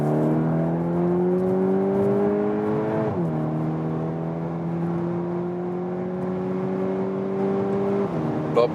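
A 2023 VW T-Roc R facelift with a 300 hp engine pulls hard after a downshift, its engine note rising steadily through two gear changes, loud and continuous inside the cabin.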